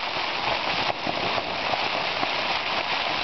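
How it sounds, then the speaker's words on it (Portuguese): Heavy rain pours down with strong wind in a dense, steady hiss, drumming on surfaces close by without a break, heard from inside a tent. "Agora tá uma boa chuva. Tá muito vento, né?"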